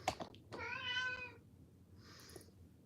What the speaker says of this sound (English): I don't need you meowing every 2 seconds, boy